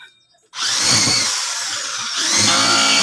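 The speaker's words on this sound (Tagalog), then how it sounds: "Oh, wala sa usapan natin yung barena." Power drill whirring in steady bursts during assembly of a large wardrobe with 18 drawers and 10 doors; the motor starts abruptly after a brief quiet, runs loud and close, then revs up again.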